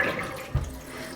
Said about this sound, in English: come on over to the sink and drain them